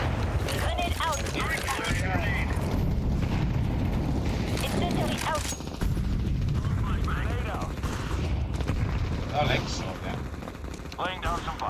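Rapid bursts of gunfire from Counter-Strike 2 rattle through a busy match, repeated shots and booms layered continuously under a voice talking throughout.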